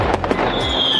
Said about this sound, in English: fireworks display that painted the night sky with cascades of colors